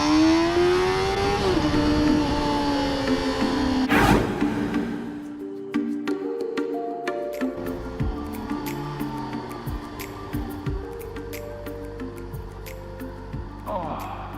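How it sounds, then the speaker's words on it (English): A Honda CBR 600rr motorcycle engine runs steadily while riding at sunset, its tone rising and shifting through gear changes, with wind noise throughout and someone talking over it. "I'm on the Honda CBR 600rr, and I just got this bike about a week and a half ago"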